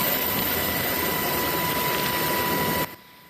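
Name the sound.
air service helicopter flying over earthquake disaster area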